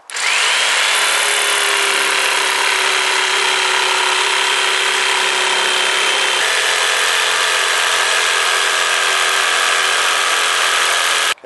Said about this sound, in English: which I'm now going to cut out using my jigsaw